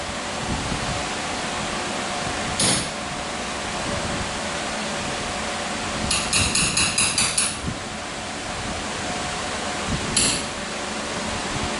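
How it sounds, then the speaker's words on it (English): Sharp metallic taps ring out over a steady hiss as a hammer tightens rear axle boot clamps: a single strike, then a quick series of hammer blows, then another single strike. "Tighten them down with the hammer."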